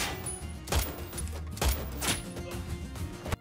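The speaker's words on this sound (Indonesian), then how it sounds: "Shankar tidak segan-segan menembak anak buah Big Bull." Gunfire during a robbery in a film recap comes as two loud, sharp bursts over a busy, dramatic background, with no talk.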